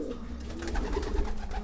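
Breeding pigeons and their chicks cooing in a loft, soft repeated low coos close by over steady background noise, with no voices.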